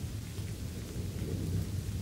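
Steady rain with low rolling thunder underneath, a continuous dense wash at moderate level throughout, no voices present.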